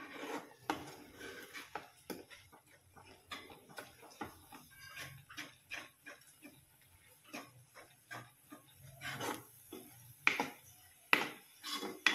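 A spoon scrapes and clinks against a pan while sugar is stirred into sweet potato sheera, giving soft, irregular taps and scrapes at close range, fairly quiet.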